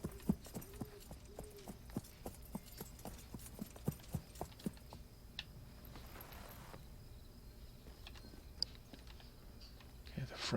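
Horse hooves in the video game New Frontier clip-clop in a steady, fairly quick walking rhythm, then stop partway through, leaving a soft ambient bed with crickets and a few faint clicks.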